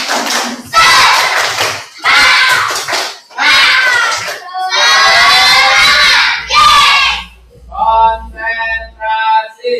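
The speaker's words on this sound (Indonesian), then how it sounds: "Coba tepuk semangat." Classroom of students loudly performing a rhythmic spirit clap chant, shouting in unison in short bursts punctuated by claps, then a quieter group chant at the end.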